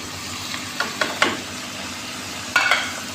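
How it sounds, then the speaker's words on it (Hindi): Garlic and ginger frying in a pan for bhuna keema, with a soft sizzle beneath a few sharp scraping clicks of stirring, the loudest pair near the end. "लहसुन अदरक फ्राई हो गया है"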